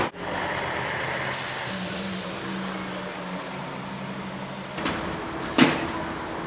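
A bus idles at the Launceston City bus interchange in Tasmania early in the morning, a steady low engine rumble broken near the end by sharp hisses of air brakes.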